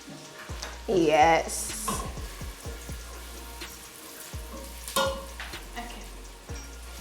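Onion frying in an okra soup base while being stirred, a crackling sizzle with scraping and clunks of a spoon against the pot, under brief talk.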